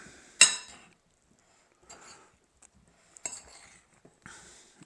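Shredded cheddar cheese being stirred into cooked meat and peppers for pork enchiladas, heard as a sharp utensil knock followed by sparse, quiet scraping and tapping against the pan.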